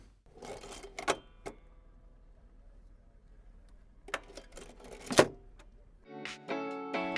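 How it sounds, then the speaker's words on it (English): A few sharp mechanical clunks and clicks separated by quiet gaps as the boarding step of a Hawk T2 jet opens and closes, followed by a whirring motorized hum near the end, close and fairly faint. "That was the sound of the footstep being opened and closed on a Hawk T2 Mark 167."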